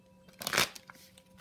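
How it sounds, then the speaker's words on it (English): Tarot cards being shuffled by hand, a single brief soft riffle of papery card edges at close range, quiet and alone without talk. "I'm just going to shuffle a few more times"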